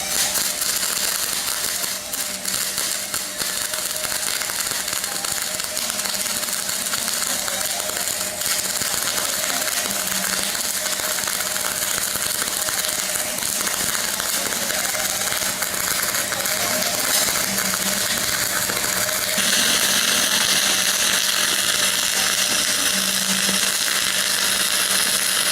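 Dual shield flux core arc welding a root pass on a beveled joint, a steady dense crackle and hiss lasting throughout with no pauses, close and alone.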